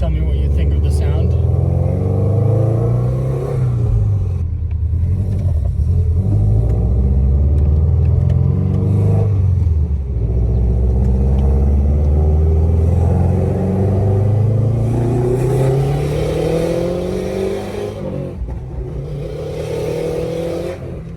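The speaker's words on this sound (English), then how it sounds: "That external wastegate sounds great." Turbocharged Subaru Baja engine with an external wastegate, revving repeatedly in a tuning shop, loud rising and falling engine swells with people talking over it.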